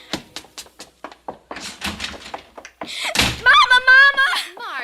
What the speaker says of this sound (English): Margaret, haven't I told you not to slam the door?